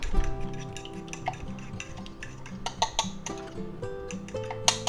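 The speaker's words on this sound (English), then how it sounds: "We're going to just go ahead and beat up our egg mixture again." Egg mixture beaten in a bowl with rapid, uneven clicking and tapping of utensil on the bowl, heard close over steady background music.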